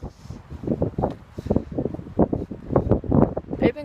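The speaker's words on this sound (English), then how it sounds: "it's very windy here" Gusty outdoor wind buffets the microphone in uneven rumbling surges for the whole stretch, loud and close, with no clear speech.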